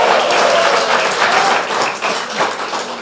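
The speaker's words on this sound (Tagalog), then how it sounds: "Malakas sa palakpakan." Loud, sustained applause from a church congregation fills the space, with dense clapping continuing steadily throughout and a little crowd noise mixed in.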